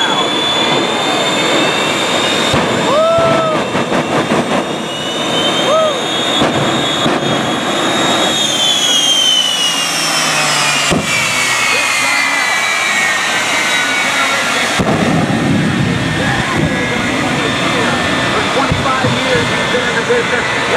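Roaring jet engine on a jet-powered semi truck at an air show in Houston, loud and close, whining and shifting in pitch with afterburner bursts of intensified thrust and a few abrupt changes in the roar.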